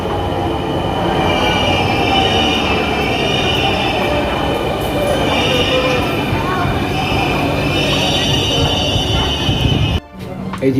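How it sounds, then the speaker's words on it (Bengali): A Dhaka Metro Rail train rumbles loudly into a station, its wheels squealing in a sustained high whine before the noise drops off abruptly near the end. "এই তো আমাদের ট্রেন চলে আসছে"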